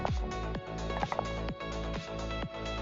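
Rapid electronic clicking chirps from software trying to connect over SSH repeat at a regular pace, each a quick downward sweep, steady and moderately quiet against a low background hum.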